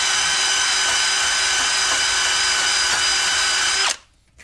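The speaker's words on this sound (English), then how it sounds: "Can I speed the drill up?" A power drill whirs at a loud, steady high pitch for several seconds during a Ford Excursion front suspension rebuild, then cuts off abruptly near the end.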